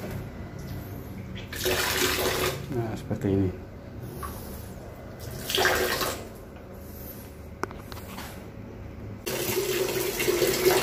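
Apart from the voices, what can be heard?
water running from tap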